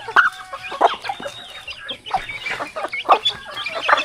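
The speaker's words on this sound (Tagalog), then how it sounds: "itong mga chicken na nakikita nyo dito, kay Tatay Rayot to" A flock of chickens clucks on a Filipino farm in a dense, busy chorus of overlapping close clucks and squawks, loud and continuous with no talking.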